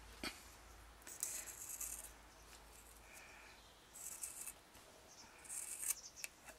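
Scissors snip through a small sponge in a few short, quiet crisp bursts separated by pauses, close up against faint background hiss.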